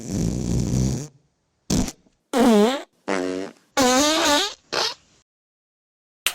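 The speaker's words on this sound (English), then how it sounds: "Here is an example of the sound of a fart." A run of human farts: several separate bursts of varied length, some buzzy and rippling in pitch, loud and close with short silences between, followed by a faint final pop at the end.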